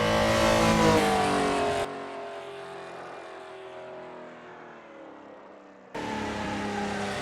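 A Porsche 911 RSR race car with a 330-horsepower engine, driven on a dirt-strewn track, roars loudly as it accelerates, drops to a quieter, muffled drone mid-lap, then surges back to full volume.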